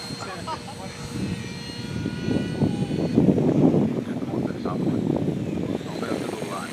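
A helicopter flies in an autorotation contest, its rotor and engine making a steady, fairly distant drone that swells and fades under continuous commentary.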